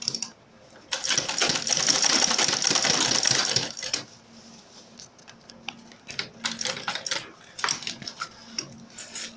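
A sewing machine stitches a laptop backpack seam in a short burst of fast, rattling whirr, followed by scattered clicks, taps and fabric handling sounds at close range.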